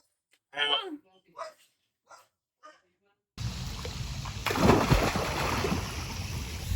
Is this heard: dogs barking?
yes